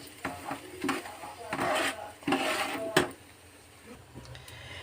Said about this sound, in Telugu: ఒక గ్లాస్ బొంబాయి రవ్వని తీసుకొని ఈ పోపులో కొంచెం సేపు 2 or 3 minutes కలుపుకోవాలి